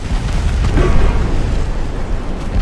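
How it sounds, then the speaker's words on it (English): A torpedo strikes a ship in the naval game Ultimate Admiral Dreadnoughts, producing a loud, deep, rumbling blast that rolls on steadily and heavily without a sharp decay. "Nice torpedo hit there."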